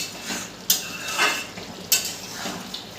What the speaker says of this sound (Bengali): একটু খুন্তি দিয়ে নেড়ে দেবো